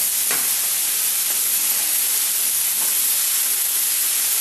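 Anticuchos skewers sizzle steadily while cooking, a continuous close hiss with faint crackles and no talk.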